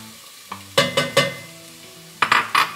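Chopped celery and green onion stirred in a soup pot, heard as a run of quick metal spoon scrapes and clanks against the pot in two bursts over a light sizzle, with no voices.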